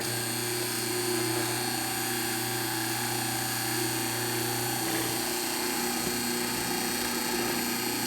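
A mortiser runs continuously while cutting a square cavity in wood for a hand-cut dovetail, a steady loud motor whine with a constant tonal hum and a slight shift in pitch partway through, close up with no talking.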